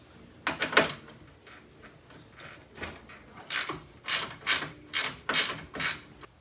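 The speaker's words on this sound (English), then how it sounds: "We're gonna loosen up that bolt there." A Koken ratchet loosening a bolt that holds a radiator in place, heard as a series of close, crisp metallic ratcheting bursts in a steady rhythm with no talking.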